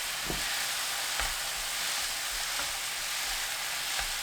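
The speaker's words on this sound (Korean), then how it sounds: "계란 넣고 10초 볶아주세요" King oyster mushrooms and egg stir-fry in a pan with a continuous, even sizzle and a few faint stirring bumps, heard up close with no voices.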